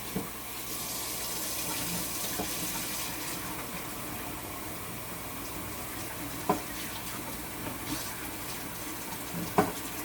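Tap water runs in a steady, even stream while freshly harvested sorrel is rinsed of dust and dirt, with a couple of faint clinks near the end.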